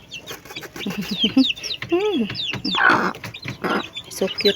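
Farm chicks only a few days old, cheeping in quick high chirps and peeps among clucking poultry, close and busy, while a person speaks briefly over them.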